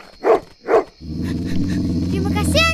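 A dog barks twice in quick succession, loud and close, in a Malay-language animated Sang Kancil folk tale with a hunter, then a voice begins talking over a steady background.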